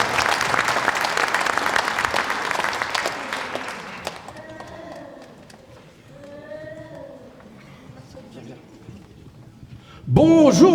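An audience at a superhero-themed cabaret show applauds loudly for about four seconds. The clapping then fades out, and people begin talking.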